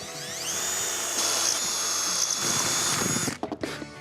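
A power drill boring side holes into a wooden board for a homemade wine rack, a steady high whine running for about three seconds before winding down with a few short bursts near the end.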